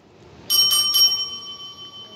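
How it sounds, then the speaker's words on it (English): A bicycle bell rings out sharply in a quick double strike, its clear metallic tone lingering and slowly fading in an otherwise quiet room. "Let's ring the bell."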